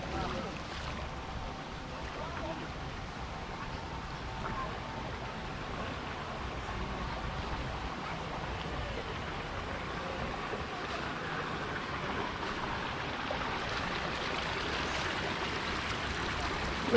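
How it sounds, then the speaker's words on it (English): Falling water from the fountains and spouts at Tirta Gangga Water Palace in East Bali, a steady broad splashing rush at moderate distance that fills the whole scene without pause. "Wherever you go, you're surrounded by the sound of falling water."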